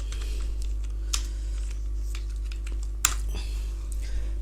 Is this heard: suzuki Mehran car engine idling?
no